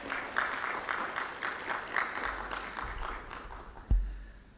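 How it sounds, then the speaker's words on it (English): A seminar audience gives a round of applause, a fairly quiet, even patter of many hands from a distance that fades gradually, with one louder thump near the end. "Give a big round of applause to him."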